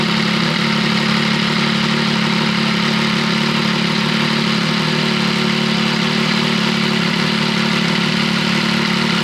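Several three-cylinder motorcycles idle together before a group ride, a steady, loud, continuous engine drone with no break and no talking.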